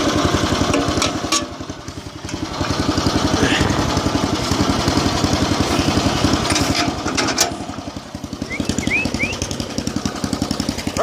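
A small lawn mower engine runs steadily, its rapid pulsing drone close and loud and holding for the whole stretch, dipping briefly in level and then recovering; faint high chirps and occasional knocks sit above it.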